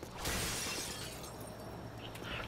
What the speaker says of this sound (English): Heard more glass break.